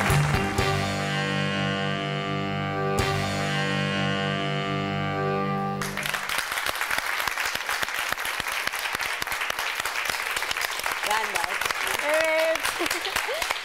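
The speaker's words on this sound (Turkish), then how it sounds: "Bu alkışlar hocam için çok kıymetli" Studio audience applauding on a Turkish daytime talk show. Music plays over the first six seconds, then dense, steady clapping fills the rest of the clip, with voices speaking faintly underneath near the end.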